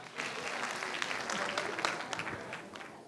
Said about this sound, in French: Merci d'applaudir encore, Déborah.